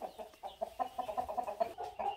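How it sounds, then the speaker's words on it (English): Rhode Island Red roosters in a pen cluck in a quick, rhythmic series of short calls, moderately close and fairly quiet, with no talk over them. "They're gorgeous roosters."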